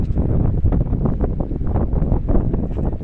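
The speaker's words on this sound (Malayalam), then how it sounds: "നല്ല കാറ്റും തണുപ്പൊക്കെ ഉണ്ട്." Strong wind on a mountain top near Baba Mandir, Sikkim, roars and buffets continuously in low gusts, rumbling across the microphone with no voices.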